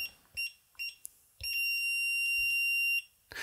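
Short electronic confirmation beeps from a PL960QPM WiFi door intercom keypad, a few quick tones followed by one long sustained tone, heard close up with faint clicks between them.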